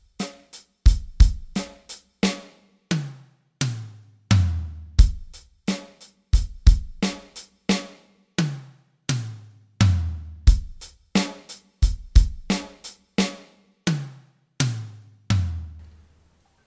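Drum fills on a kit, each a run of four single hits across snare and toms, played repeatedly with steady even spacing and short pauses between; loud, close and without talk.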